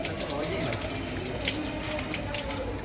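A pigeon just rescued from a dog coos near a temple in Morbi in rainy weather, soft repeated calls half buried under steady background noise and people talking.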